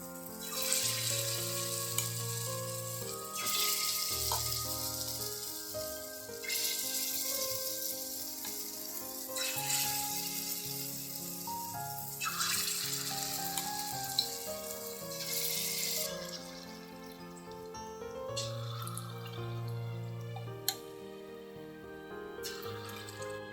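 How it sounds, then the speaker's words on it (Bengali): Papaya fritters sizzle steadily in hot oil for Bengali pepe ghonto, a continuous bubbling hiss over layered steady tones with no talking. "তো তেলটা গরম হয়ে গেছে, এখন আমি ছোট ছোট করে বড়াগুলো দিয়ে দিব।"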